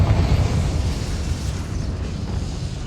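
A Confringo fire blast spell explodes in Hogwarts Legacy, a loud booming burst with a dense low rumble that rolls on steadily for about three seconds without fading much.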